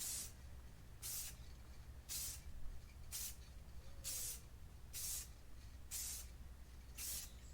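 Aerosol clear coat is sprayed in short, even bursts onto a 2006 Subaru WRX headlight, about eight light hisses spaced roughly a second apart, close and fairly quiet.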